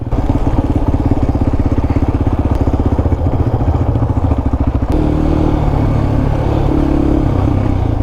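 A Yamaha Raptor 250 quad engine revs loud and close in the Bois de Vincennes woods, a steady pulsing growl that drops to a smoother, lower drone about halfway through.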